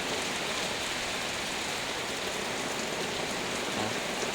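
Heavy rain from a storm pours down steadily, a dense, constant hiss of water drumming on surfaces with no pauses, loud and close.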